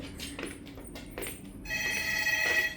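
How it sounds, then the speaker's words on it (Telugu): A hotel room telephone at the Taj in Tirupati starts ringing partway through, a loud, sustained electronic bell tone. A few soft clicks and knocks come before it, with no talk. "నాకు ఒక ఫోన్ వస్తుంది"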